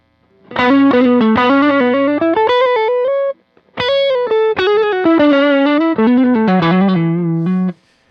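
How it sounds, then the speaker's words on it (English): Electric guitar through a Boss Nextone Special amp with a mild overdrive crunch plays a melodic run, pauses briefly, then continues, loud and close with no talking. "I could turn on an overdrive, which would give me like a mild kind of crunch"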